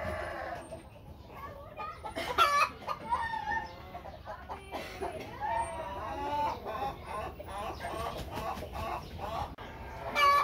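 Heritage rooster crossbred with Silkie and native hens clucking and calling nearby in an irregular, busy chorus of short bursts, with a louder squawk near the end.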